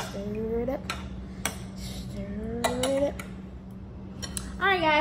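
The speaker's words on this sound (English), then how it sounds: "So now I just gotta stir it all together." A utensil stirring a mixture, with clinks and scrapes of metal against a dish, close by, under a steady low hum, with brief voice-like sounds in between.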